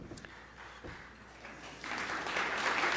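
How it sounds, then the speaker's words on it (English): An audience at a lecture on science, reason and religion breaks into applause: scattered claps at first, then a dense wave of clapping that swells and holds, heard from within the hall. "I'm happy to have applause."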